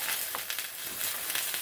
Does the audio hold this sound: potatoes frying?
yes